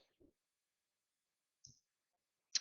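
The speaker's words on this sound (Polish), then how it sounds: "Klikam na zatwierdź." Computer mouse clicks, two or three sharp isolated ticks separated by silence, close and quiet.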